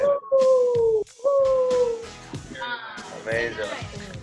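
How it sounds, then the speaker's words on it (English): A dog howls in two long, sliding, drawn-out wails close by, with whimpering and yips mixed in among excited people talking and cheering at a lively gathering. "Is that the dog we found?"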